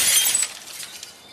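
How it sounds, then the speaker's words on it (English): A glass coffee table shatters after being dropped from a great height, a loud bright burst of breaking glass followed by a short scatter of tinkling shards that fades quickly. "Now a stylish glass coffee table."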